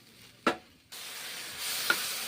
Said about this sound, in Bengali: পাউরুটি বাটার দিয়ে পাউরুটিগুলো ভেজে নিচ্ছি বাটার দিয়ে